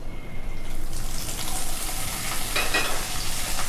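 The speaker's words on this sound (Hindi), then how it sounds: "तो सबसे पहले मैं पनीर इसमें डालती हूँ फ्राई करने के लिए।" Square-cut paneer cubes fry in ghee in a kadhai, giving a loud, constant sizzle close by, with a few brief scraping and stirring touches and no talking.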